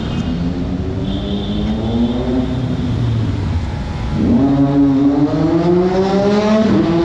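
A Kawasaki Ninja motorcycle engine drones loudly and close, its pitch dipping, then climbing again as the rider revs and accelerates, with no talk over it.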